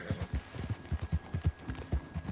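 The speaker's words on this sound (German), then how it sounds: "Wir reiten zu Jack." Horse hooves clip-clopping at a steady riding pace in the video game Red Dead Redemption 2, a close, rhythmic run of hoofbeats heard alone throughout.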